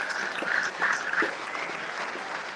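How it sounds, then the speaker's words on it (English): An audience at a firefighter stair climb charity presentation claps in a brief, steady round of applause with no speech over it. "So everyone give yourself a big round of applause."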